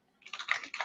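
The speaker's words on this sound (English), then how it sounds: "I was just typing in the chat" Quick, light keystrokes on a computer keyboard are heard up close and faintly, a short cluster of taps in an otherwise quiet room.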